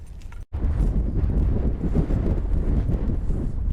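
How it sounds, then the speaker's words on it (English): Strong wind blows outdoors on a warm day beside a trout stream, buffeting the microphone with a loud, low, gusty rumble that drops out for a moment and then surges back. "that wind is blowing, but the air is warm"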